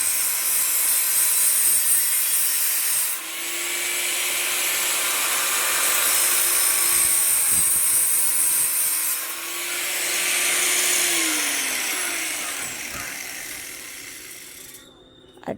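Wood being cut with a power saw, a steady rasping whine that runs almost continuously and dips briefly a couple of times, close and loud, with no talk over it.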